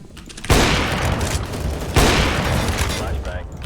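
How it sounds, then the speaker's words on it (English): A flashbang grenade goes off in a video game, two sharp booming blasts about a second and a half apart, each trailing into a ringing hiss, loud and close. "Flashbang"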